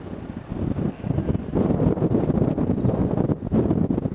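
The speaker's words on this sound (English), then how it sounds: "As the wind is blowing up here" Wind buffeting a microphone on a hilltop in New Zealand, a loud low rumbling roar that rises and falls in gusts throughout.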